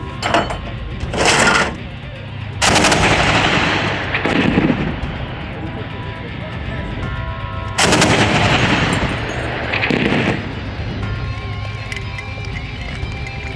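Twin-barrel anti-aircraft gun firing during air defense training, heard as loud, close bursts of rapid automatic fire at intervals with mechanical clatter between them, and a voice speaking in the background.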